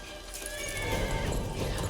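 A horse neighs and whinnies at close range in a scene from the fantasy series The Witcher, with a steady loud bed of hoof clatter and ambient noise running through the whole short moment.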